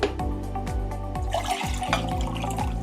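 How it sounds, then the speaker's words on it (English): Liquid hydrosol is poured from a still's collector into a glass jug, producing a steady, close trickling and gurgling stream with rising filling tones and occasional splashes, with no talking. "I just pour it in the"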